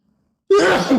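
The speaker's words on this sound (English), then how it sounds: "going to sneeze" After a moment of silence, a single loud, close sneeze bursts out abruptly.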